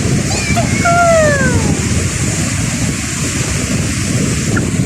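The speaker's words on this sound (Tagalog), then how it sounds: "Ang lakas ng wave." Strong ocean waves crash and roar steadily along the shore, a loud continuous wash with wind buffeting the microphone and faint voices mixed in.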